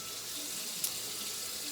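A kitchen tap runs steadily into a sink while a turkey neck is rinsed, a faint continuous hiss of water with one small splash.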